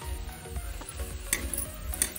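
Veg chowmein sizzles in a pan as sauces go in and a spatula stirs it. Low frying noise continues under irregular scraping and a couple of brighter metallic clinks, with no talking.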